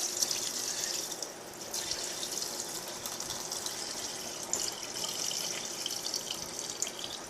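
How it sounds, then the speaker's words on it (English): Water poured off soaked rice runs and splashes steadily into a sink, a continuous bright hiss with small spattering drips, fairly close and without talk. "We're going to go ahead and pour off the water."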